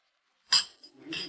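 Two glasses clink together in a toast, one bright clink after a moment of silence and then a softer ring with faint low rumble, quiet and close.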